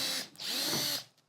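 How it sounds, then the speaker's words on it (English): A power drill enlarging mounting holes in the metal trunk lid of a third-generation Honda Prelude, two short bursts of a high whining spin close up, the second longer, with no speech. "So now we just have to drill this out to be the next size up."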